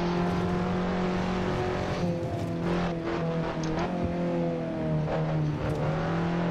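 Car driving in the racing game Assetto Corsa, a continuous engine drone with rising and falling pitch as it revs through gears, steady and fairly loud with no talk.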